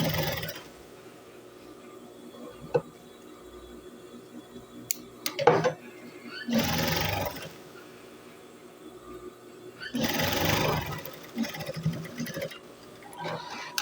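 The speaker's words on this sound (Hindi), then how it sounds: "सिलाई शुरू करेंगे।" A sewing machine stitches a ladies' trouser in short whirring bursts, with quiet pauses, handling clatter and small clicks between runs, all heard close up.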